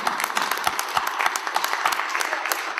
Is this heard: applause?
yes